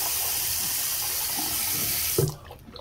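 Running tap water rinses a Bissell PowerForce Helix vacuum filter in a sink, a steady loud gush that cuts off abruptly near the end, leaving a few quiet drips and handling sounds.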